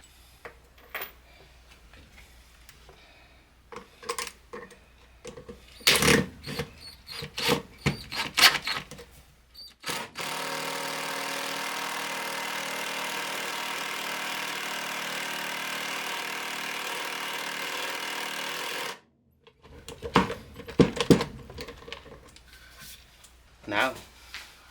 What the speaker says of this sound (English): the star head makes driving them a hell of a lot easier